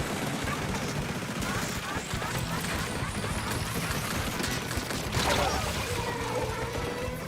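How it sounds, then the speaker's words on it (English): The Crab Tank special weapon in Splatoon fires in a rapid, steady stream of shots, dense and continuous amid game noise, with a voice talking over it. "Crab tank time!"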